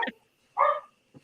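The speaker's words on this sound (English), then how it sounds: "My dogs are driving me insane." Hungry dogs bark indoors, a few sharp separate barks with short silent gaps between them, close and clear.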